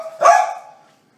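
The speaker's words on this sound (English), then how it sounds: "Got a boof. Got a bark," A single loud dog bark, close by, with a short ringing tail fading into silence.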